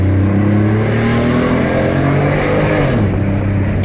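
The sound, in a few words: Alfa Romeo 156 3.0 with sports exhaust revving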